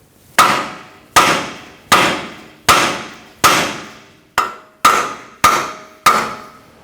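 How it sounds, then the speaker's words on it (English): Nine sharp metallic hammer strikes on a front lower control arm of a 2004-2009 Audi A4 Quattro ring out one by one at a steady, unhurried pace, each clang decaying before the next. "If you don't have one, just use a hammer. We can just tap right here as well."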